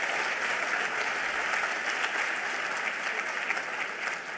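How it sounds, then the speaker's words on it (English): An audience at a live event applauds in a steady, fairly distant wash of clapping that fills the whole stretch without any speech over it. "Let's give them a round of applause."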